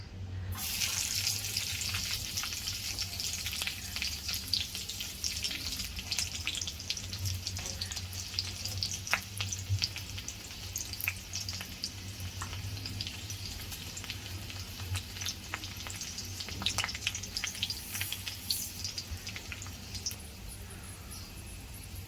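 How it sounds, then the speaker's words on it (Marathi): Spices temper in hot oil for ragda, making a steady, continuous hissing sizzle that holds at an even, moderate level for over twenty seconds, with faint crackles now and then. "आता आपण रगड्याला फोडणी देऊया"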